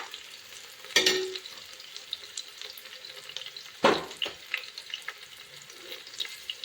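Vegetables for a pulao frying in oil with a soft continuous crackle, broken by two louder clattering stirs of a spoon against the pan.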